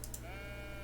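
A sheep in the video game Tiny Glade gives one short, quiet bleat with a wavering tone against a low steady hum, lasting under a second.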